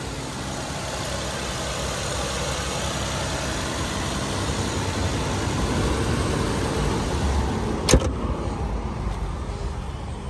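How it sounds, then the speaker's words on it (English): A 2014 Nissan Pathfinder V6 idles steadily under the open hood, a close, even engine drone with one brief click near the end. "It is a V6, running and driving."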